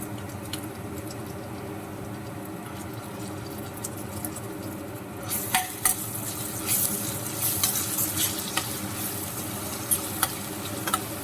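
Ginger garlic paste frying in a pan for a spicy chicken curry, stirred with a utensil. The sizzle holds steady throughout, and from about the midpoint scraping and stirring clatter grows louder and more frequent.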